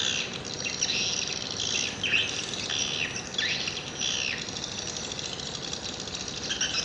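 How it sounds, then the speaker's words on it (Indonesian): Swiftlet calls played through a bird-house speaker, a steady stream of high, bright chirps and twitters in repeated bursts, constant and fairly loud over a faint hum. "Ini burung manggil. Beda, cuitannya beda."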